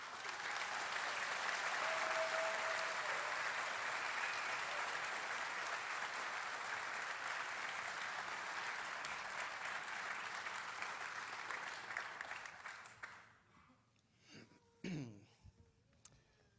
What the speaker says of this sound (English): I want a big round of applause for Dr. David Farrar